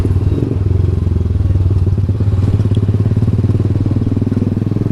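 A TVS Apache RR 310 motorcycle fitted with a full-system Akrapovic exhaust rumbles along at a steady cruise, its deep, pulsing engine note loud and close with road and wind noise over it.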